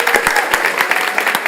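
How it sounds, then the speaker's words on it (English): An audience at a festival session claps for a woman who has just introduced herself, a short burst of close, loud applause with distinct individual claps standing out. "Everyone give Kelowna a huge round of applause"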